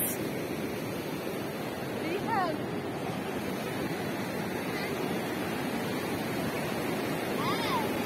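Sea waves foam and wash up on the beach at Legzira among its rock arches, a steady broad roar of surf with wind across the microphone and a few faint bird-like chirps.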